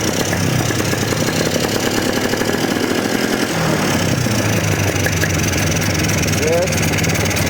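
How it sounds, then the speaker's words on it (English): A 400cc two-stroke Polaris ATV engine, long abandoned and shaking badly, runs loud and close, with its note rising and falling as it revs unevenly. A voice talks over it. "Let me see if I rev it up."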